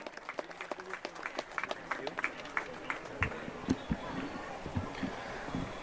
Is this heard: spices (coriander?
no